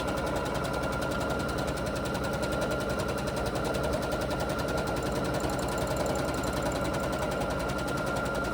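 Sewing machine running steadily during free motion quilting on fabric, a fast, even mechanical rattle of stitching that continues unbroken at close range with no talk.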